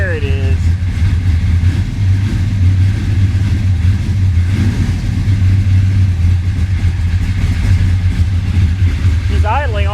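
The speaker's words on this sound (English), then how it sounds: "She's idling on her own." A 1966 Chevy Impala with a 427 V8, revived after 20 years abandoned, idles on its own with a steady, close, low rumble that holds for the whole stretch, with voices speaking briefly over it at the start and end.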